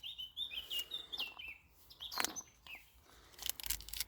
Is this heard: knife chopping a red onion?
no